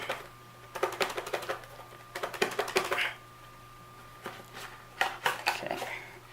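KZ ZS6 earbuds are lifted out of a frame-type tray in their box, with short bursts of close clicking, tapping and crinkly plastic handling separated by brief quiet pauses.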